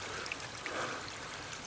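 A spring-fed stream washes over limestone in a steady, soft trickling babble, close and even, with no voices.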